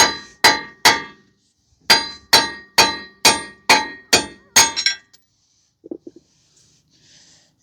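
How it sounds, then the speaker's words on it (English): A hammer strikes a damaged rear wheel stud on a 2019 Subaru Forester 2.5 about ten times, each a sharp, ringing metallic clank at a steady pace, then near silence with a few faint small knocks. "So we are going to hammer this guy out."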